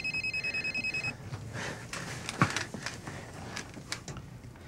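A telephone rings in a repeated electronic burst pattern for about a second, then stops, leaving rustling and faint handling noises in a quiet room.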